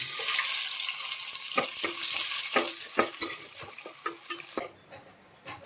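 Two large onions sizzle in hot oil with fennel seeds, cinnamon, cloves and cardamom for a green chicken masala. They are stirred continuously, so a steady close frying hiss carries intermittent spoon scrapes and knocks, then quiets toward the end.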